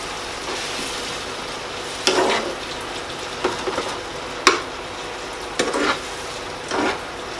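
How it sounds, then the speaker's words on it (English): Chopped tomatoes going into a bolognese sauce in a pot, with a few separate clatters and wet plops of a spoon against the pot over a quiet, sizzly background. "I'm going to add the chopped tomatoes in just now."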